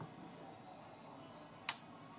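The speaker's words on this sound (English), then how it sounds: "That's the door creaking, by the way, cooling down" An LG DirectDrive F1496AD washer dryer door, cooling down after a hot Cottons 95ºC wash, gives a single sharp tick against a faint, steady background hum.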